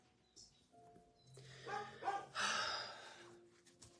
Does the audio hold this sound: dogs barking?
yes